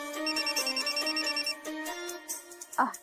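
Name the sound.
telephone ringing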